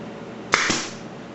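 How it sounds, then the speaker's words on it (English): A pin nail gun fires into wood while assembling a wooden chessboard, giving one sharp, close snap followed by a brief hiss that quickly fades, with no talking. "to secure it is to use my pin nail gun"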